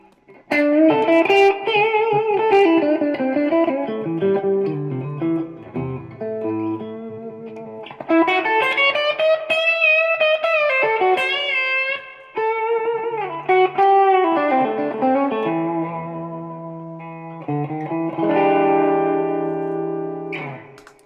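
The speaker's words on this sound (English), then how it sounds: "Try a little overdrive." Electric guitar through a Vox MV50 amp with overdrive, playing a melodic phrase of sustained notes and bends with light grit and reverb, alone and loud throughout.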